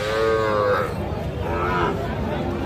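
Calves and young heifers at a cattle market in Comilla, Bangladesh, give two drawn-out moos over a dense background of crowd chatter and market bustle, close and loud.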